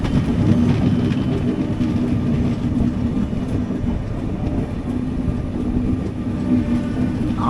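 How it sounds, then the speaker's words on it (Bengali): A train pulls into New Bongaigaon station, its loud, continuous rumble and rolling wheel noise holding steady and close throughout with no voices over it. "নিউ বঙ্গাইগাঁও ট্রেন ঢুকছে। একটা ঢুকছে, একটা বেরোচ্ছে।"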